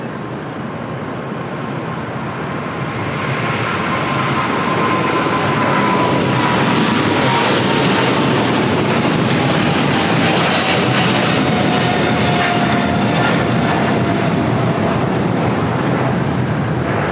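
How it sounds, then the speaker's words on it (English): A China Airlines cargo Boeing 777 rolls down the runway at LAX, its jet engines building into a loud, broad roar that swells and then holds steady from a distance, with wind buffeting the microphone. "we got that China Airlines cargo 777 now rolling down to"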